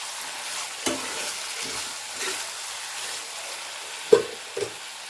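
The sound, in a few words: potatoes frying with salt, stirred in pan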